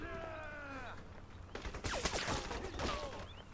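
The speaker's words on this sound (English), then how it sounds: "Who's shooting at me?" Gunfire in the video game Crysis Remastered: a burst of sharp shots and rattling fire erupts midway after some bird-like chirps, with loud bangs continuing over busy background noise.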